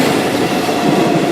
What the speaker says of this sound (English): Train, small train, short train.